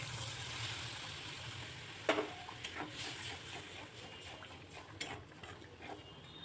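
Pointed gourd and potato fry in a pan with a soft, steady sizzle, broken by a few sharp clicks and taps of a utensil against the pan.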